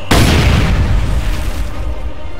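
A grenade blast in the strategy game Company of Heroes 2 lands as one loud, sudden boom, and its rumble trails away across the next couple of seconds.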